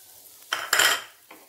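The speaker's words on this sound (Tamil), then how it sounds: "இதே பேனில் இருக்கிற நெய்யில் அவலை போட்டு வறுத்துக்கலாம்" Flattened rice (aval) is tossed into ghee in a pan, a brief close rustle and crackle of stirring with a light clink of the spoon, then a fainter scrape.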